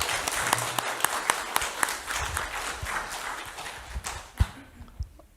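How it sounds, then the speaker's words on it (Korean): Audience at a lecture hall clapping to welcome a professor, scattered hand claps of moderate loudness that thin out into a few isolated claps before fading. "박수 다시 한번 크게 부탁드립니다"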